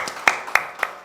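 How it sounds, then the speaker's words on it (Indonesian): An audience claps during an Indonesian talk-show interview with actors, heard as a short run of four evenly spaced, fairly close claps alongside a voice. "Tepuk tangan dulu untuk Kak Dian."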